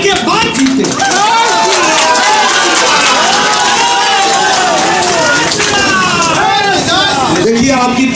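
A large crowd at an outdoor political rally in Bengal, with a sustained roar of cheering, whistles and voices that fills the whole stretch, loud and close, with shouting carried over the top.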